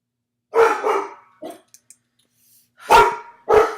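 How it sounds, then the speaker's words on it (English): Guard dog barking loudly indoors, a pair of deep barks, then a few smaller yips, and after a pause two more strong barks close by. "Guard dog."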